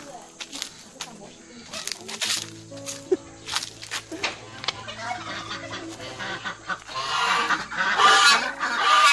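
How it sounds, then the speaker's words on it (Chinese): Geese honk repeatedly amid other poultry clucking at a family gathering, with people talking and exclaiming over the birds throughout. "好像还有鹅在里面是吧？"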